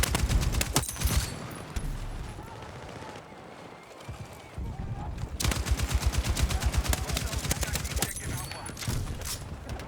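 Rapid automatic gunfire from the Battlefield 6 video game, with dense bursts of machine-gun fire at the start, a brief lull with scattered shots, then a long sustained rattling burst close and loud.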